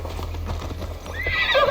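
Horse in a video game, hooves clip-clopping steadily through the clip, then a loud whinnying neigh rising near the end, with no talk over it.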